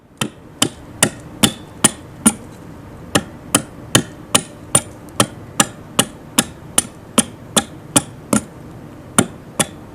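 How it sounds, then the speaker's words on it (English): An adze chops into a wooden bowl blank during carving, making a steady series of about twenty sharp, close, evenly spaced knocks with no talking. "The closer that I get with the adze, the less gouge work that I have."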